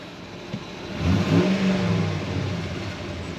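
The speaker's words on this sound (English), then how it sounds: "The engine sounds really nice." Dodge Ram pickup truck with about 105,900 miles, its engine blipped once from a quiet idle into a short rising rev that swells and eases back down, heard fairly close and alone.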